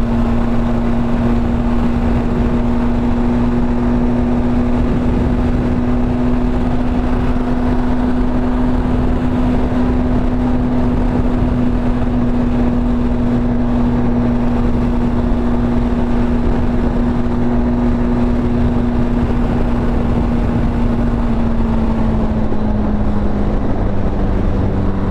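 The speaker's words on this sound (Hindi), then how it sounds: "ये बाइक सुपर है यार, इतना स्टेबल चलती है, इतना स्टेबल चलती है एट गुड स्पीड्स।" A Benelli TRK motorcycle rides at speed on the highway to Pune, a loud continuous engine drone under heavy wind rush, the engine pitch steady and then dropping slightly near the end.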